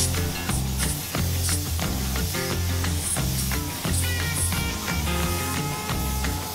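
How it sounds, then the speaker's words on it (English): A pressure-pump spray gun spraying gold base coat paint hisses in short repeated bursts, a bright airy spray sound pulsing on and off over a low mechanical hum. "I'm not used to spraying base coat with a pressure pump"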